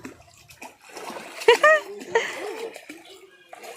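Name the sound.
child splashing water while learning to swim in pond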